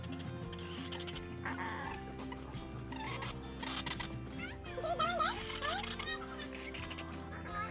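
Chickens cluck intermittently in a yard, fairly close, under ongoing background noise and scattered bumps, with short bursts of higher calls near the middle.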